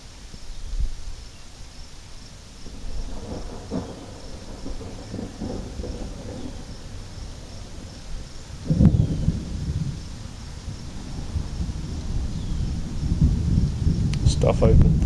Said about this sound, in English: There's thunder and rain coming in.